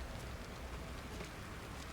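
Steady rain pours down in a horror video game, a dense, even hiss of falling drops on surfaces that holds at a constant low level with no voices.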